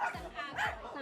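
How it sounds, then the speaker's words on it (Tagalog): Two short, close yips or barks come from a household with many dogs and newborn puppies, quick and sharp against light background noise. "Pangilan po yung kumakahol? Maraming aso, bagong panganak."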